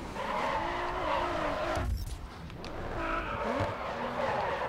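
A 2003 Nissan Silvia drifting in GRID Autosport, engine droning steadily as tires squeal in long wavering tones, easing briefly midway before the skid resumes, loud and close with no talk.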